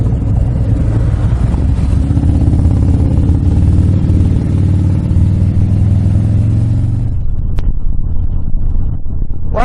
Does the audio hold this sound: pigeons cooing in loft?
no